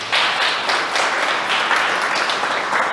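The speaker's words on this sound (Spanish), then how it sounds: "Dale un aplauso a Jesús por eso." A congregation applauds at a church service, a dense, steady wash of many hands clapping together for the full stretch, loud and close with no voices standing out.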